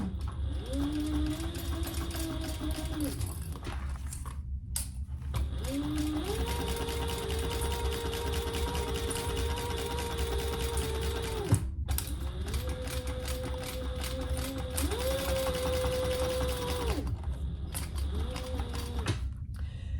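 Sewing machine stitching a crossbody bag, running in long steady bursts with brief pauses between seams, a continuous mechanical whir with rising and falling motor pitch, close and fairly loud with no talking.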